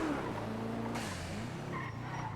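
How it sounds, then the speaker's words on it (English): A car in the GTA roleplay video game drives through a city alley with a rumbling engine and a brief tire squeal, heard moderately close and continuous. "I hear a car in one of the alleyways to our right."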